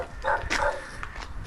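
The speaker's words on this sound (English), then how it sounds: "Oh, neighbor's dog." A neighbor's small dog gives a few short barks and yips at middle distance, faint and somewhat muffled against background noise.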